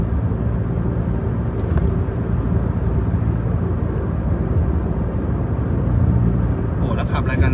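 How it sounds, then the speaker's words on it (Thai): Heavy road traffic dominated by ten-wheel trucks, a loud continuous low rumble of engines passing nearby, with talking over it. "ถว่ะรถเยอะว่ะ10ล้อล้วนๆเลยว่ะ10ล้อทั้งนั้นเลยว่ะ"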